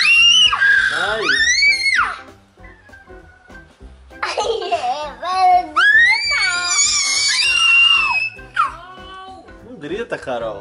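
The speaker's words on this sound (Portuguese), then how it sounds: "Se ela grita, ela não para de gritar." A young girl shrieking in a bedroom at home, several high piercing screams in bursts close to the listener, mixed with other children's voices and squeals.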